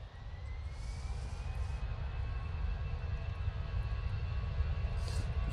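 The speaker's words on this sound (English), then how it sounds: "Easyjet off to Faro now" An EasyJet airliner taking off for Faro from Manchester Airport: a steady, broad jet roar holds throughout with a faint rising whine, loud and continuous, with no talking.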